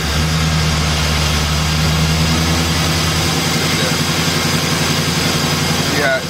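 2005 Chevy Express G2500 van engine with a random cylinder misfire, run under power braking with brake and throttle held, a loud close steady drone with a low uneven rumble that drops off near the end.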